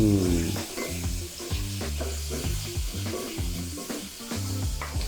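Garlic sizzling and frying in a pan with onion, chili, curry leaves and tomato, with steady stirring scrapes running through a loud, continuous sizzle close by and no talk.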